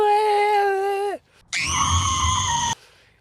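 A voice imitating kids screaming in the back of a van, two long loud shrieks separated by a short pause.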